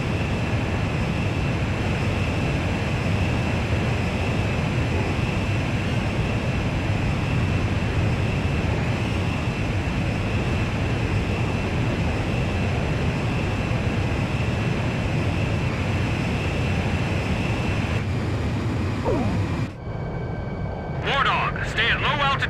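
A jet engine drones in a steady, loud, continuous roar during aerial refueling in the video game Ace Combat 5, holding level for most of the stretch before dropping away abruptly near the end.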